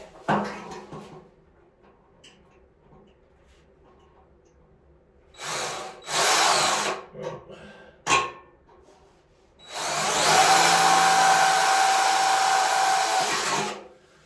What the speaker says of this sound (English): You want to drill it as centered as you can